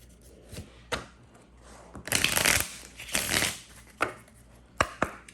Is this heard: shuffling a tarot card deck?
yes